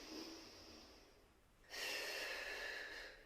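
Breathing during a Pilates mat exercise: a long soft inhale, then a louder, breathier exhale starting about halfway, close and with no talking.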